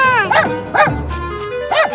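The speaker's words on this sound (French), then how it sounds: "chien!" A cartoon dog gives several high yipping barks, close and loud, in a children's fantasy story, two quick barks followed by a third after a pause, with bright tonal music playing underneath.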